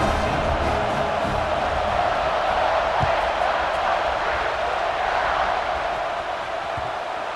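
A stadium crowd in EA Sports College Football 26 roars as a constant loud wash of cheering, with a faint thump or two beneath.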